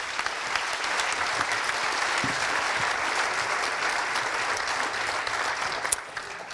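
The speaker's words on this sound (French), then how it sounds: "Merci à tous les deux, on peut les applaudir." Sustained audience applause at a French national wine tourism conference, a dense, steady wash of many hands clapping that holds evenly throughout, with a slight swell near the end.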